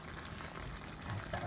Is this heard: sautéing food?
yes